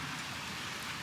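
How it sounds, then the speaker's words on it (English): A light outdoor drizzle falls steadily, a soft continuous hiss of fine raindrops with no pauses, heard close and fairly quiet, with no talking. "We got a slight drizzle, rain coming down."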